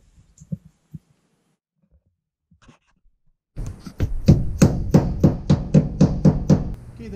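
Plastic partition spacers tapped into holes in a steel van floor: after a few faint knocks, a steady run of about a dozen sharp, evenly spaced taps rings out close and loud, with no talking.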